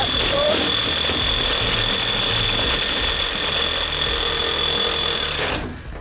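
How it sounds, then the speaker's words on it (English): A power drill grinds loudly and continuously into a cinder block, a harsh, dense roar with steady high-pitched whine that drops off abruptly at the end. "let's chuck this back in the drill and see how it eats up that cinder block."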